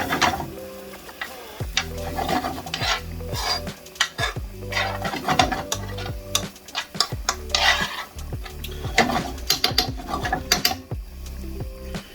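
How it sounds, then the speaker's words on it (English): Grated coconut being stirred into chicken xacutti in a pan, with busy repeated scraping and clinking of a utensil against the metal, close and fairly loud, continuing without speech. "Now it's time to add the coconut in, about 100 grams. And again, just stir everything through."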